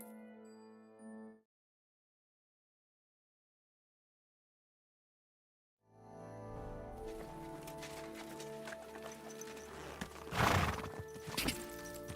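Silence gives way to a loud horse neigh and whinny over shuffling hooves, with a sharp burst near the end, from the video game Kingdom Come: Deliverance 2.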